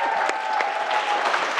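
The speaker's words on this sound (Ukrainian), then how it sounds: "Під ваші оплески." Studio audience at a Ukrainian TV talk show claps for an arriving guest, a short burst of crowd applause with scattered individual claps over a steady background tone.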